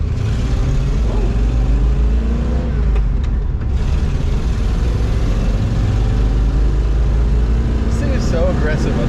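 A Ford Bronco drives under load, its engine revving and dropping in pitch as gears shift firmly, heard from inside with people talking over the steady road noise.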